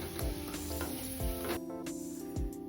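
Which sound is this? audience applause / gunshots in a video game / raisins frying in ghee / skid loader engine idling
raisins frying in ghee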